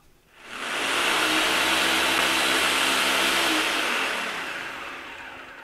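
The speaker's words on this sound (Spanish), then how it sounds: "esto me lo voy a llevar a licuar" A blender purees chicken broth with pejibaye cream, its steady loud whir starting abruptly, holding even for several seconds, then easing slightly toward the end.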